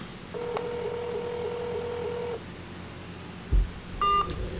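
A phone being dialed: a long sustained dial tone, then a short thump and a couple of bright tone beeps as the call is placed, clear and close with no voices.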